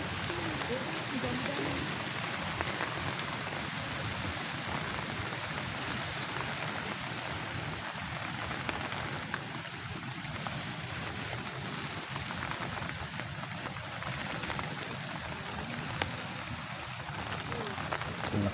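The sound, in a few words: heavy rain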